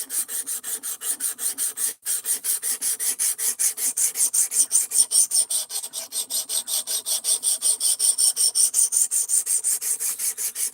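Power sander running 220-grit paper over wood, a steady raspy rubbing with a rapid back-and-forth pulse that continues loud and close throughout, with one very brief dip near the start.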